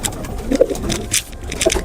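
Pigeons coo softly and repeatedly at close range while feeding in a loft, with a couple of brief louder coos standing out over general rustling and no talk.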